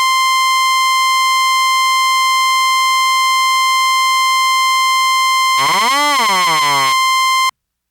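A steady, bright analog-style pulse wave tone from a Roland System 8 or Black Corporation ISE-NIN synthesizer drones evenly, then briefly warbles and sweeps in pitch before cutting off abruptly.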